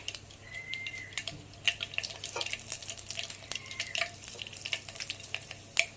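Crackling pops and spits of dried red chillies sizzling in hot oil for a rasam tempering, irregular and close, over a quiet background.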